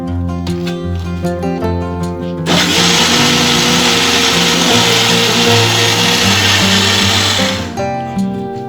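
Mixer grinder crushing cumin seeds for dosa, starting abruptly after a few seconds of quiet clatter and whirring loudly and steadily for about five seconds before cutting off.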